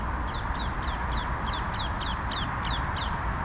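Ring-necked parakeets give a rapid series of about ten harsh, screechy calls at a steady rhythm over a constant low background rumble, fairly close and clear.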